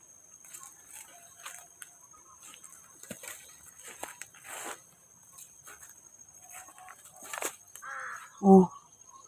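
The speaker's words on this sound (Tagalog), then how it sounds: "May uwak mga kaidol." Crows cawing outdoors around a person in a wooded area, scattered faint calls over quiet background, ending with one louder nearby burst.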